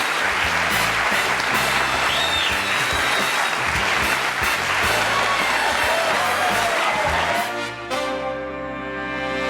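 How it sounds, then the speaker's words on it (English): A studio audience on The Johnny Carson Show in 1983 gives loud, sustained applause mixed with cheers and whoops, filling the room. Band music rises underneath near the end as the clapping thins. "I'm humbled by that applause."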